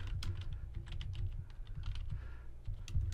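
Typing on a computer keyboard into a web browser's address bar, a quick run of close, crisp key clicks with a steady uneven rhythm and no voices.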